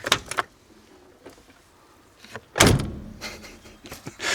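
A few light clicks and rattles, then a heavy UAZ off-road vehicle door slams shut with a solid thud, followed by softer handling noises close by.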